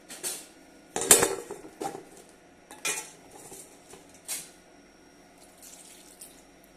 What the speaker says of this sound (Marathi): स्वच्छ पाण्याने धुवून घेतलेला आहे आणि त्या पतीला टाकलेला आहे.